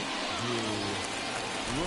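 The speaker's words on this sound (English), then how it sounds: "This rain is not letting up." Steady rain hisses across a ballpark in Pittsburgh during a Pirates versus Rockies game in MLB The Show 24, forming a constant broadband wash under a voice and a low hum.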